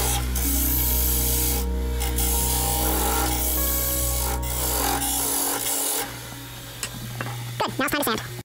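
Sanding a hornbeam wood vase on a lathe with a 120 grit sponge, a loud steady rasp over the machine's low hum, turning rougher and more uneven near the end.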